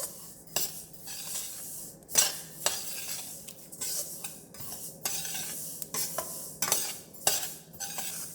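Black sesame seeds roasting in a pan, stirred and scraped with a spoon: repeated close, crisp scraping strokes at an uneven pace over a faint background sizzle, with no talking.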